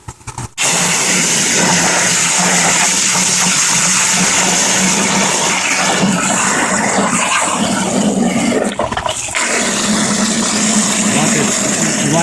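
Steady, loud gush of regular water pouring into a 7-gallon bucket for compost tea, a continuous splashing rush that starts abruptly and runs nearly unbroken, with a brief dip near the end.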